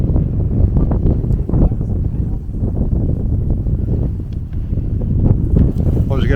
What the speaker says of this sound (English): I was going to do a walk and talk here, but it's just too windy